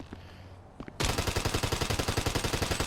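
Assault rifle fire in GTA V Online: a quiet pause with a few faint clicks, then a sudden loud, rapid, evenly spaced automatic burst that runs to the end.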